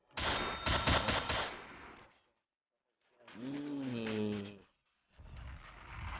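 Bursts of rapid gunfire crackle in quick succession, then a long rising and falling tonal sound, followed by another burst of rapid shots.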